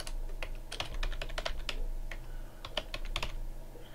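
A computer keyboard clatters under quick bursts of typing as programming code is entered, close and crisp over a low background hum.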